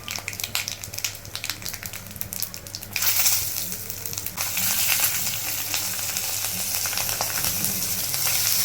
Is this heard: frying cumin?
yes